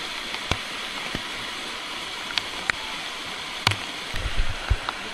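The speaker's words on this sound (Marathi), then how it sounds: "पाऊस काय आता जायचं नाव घेत नाही." Heavy rain falls beside a village stream in the Konkan countryside, a steady wash of water with scattered sharp drips and splashes and some louder gurgles toward the end.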